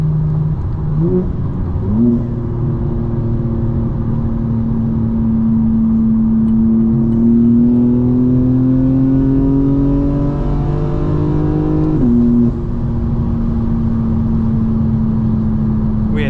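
A modified 2024 BMW M4 Competition accelerating in 5th gear, its engine droning steadily and climbing slowly in pitch before an abrupt drop, then settling into a strong, continuous hum with road noise underneath.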